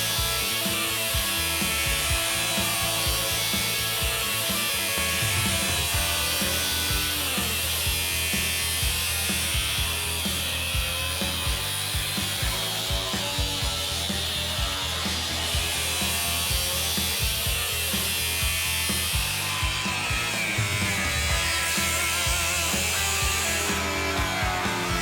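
A saw cuts through a Camaro's metal car floor to sink a fuel cell cage, giving a continuous, loud, gritty rasping with a steady rhythmic churn throughout and no voices.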